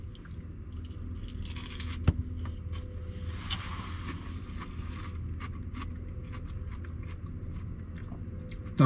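Close crunching and chewing as crisp battered fish is bitten into, with soft mouth noises over a steady low background hum.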